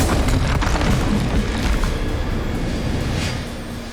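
A Bombarda spell detonates in Hogwarts Legacy with a deep, rumbling boom that rolls on and slowly fades, heard alone without talk.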